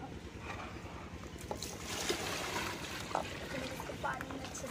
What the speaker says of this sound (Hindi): और पानी इसमें दे देते हैं थोड़ा सा,